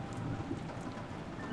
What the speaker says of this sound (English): you can hear a lot of thunder in the background